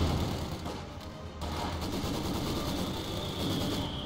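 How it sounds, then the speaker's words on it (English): A machine gun in Company of Heroes 2 fires in a dense, continuous rattle of rapid bursts, set amid a noisy 4v4 battle din with a brief dip partway through. "What's this? Ah, an MG."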